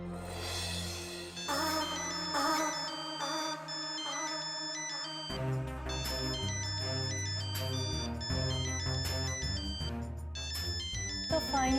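A mobile phone plays a melodic ringtone in a Hindi TV drama scene, a bright repeating electronic tune with a steady beat that continues loudly for the whole stretch, close up with no talk over it.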